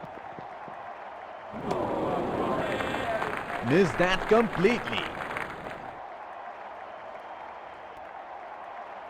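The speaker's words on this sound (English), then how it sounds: "Crowd going mad here." A stadium crowd roars and cheers for about four seconds in a Real Cricket 20 Premier League match with the West Indies team, swelling to a peak midway before cutting off, with a commentator talking over it.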